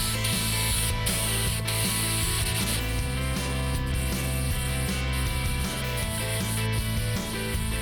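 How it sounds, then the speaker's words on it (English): Paint spray gun laying base coat and clear coat onto repaired Honda Accord front-end parts, a loud steady airy hiss with a low compressor-like rumble underneath, broken by brief pauses in the spray. "we'll shoot some base clear on all the parts that we repaired"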